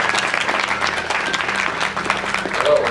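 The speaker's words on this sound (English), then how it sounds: "let's all give a round of applause for Dr." An audience claps for a speaker at a talk on neurotransmitters and brainwaves, a steady wash of applause with a voice faintly mixed in near the end.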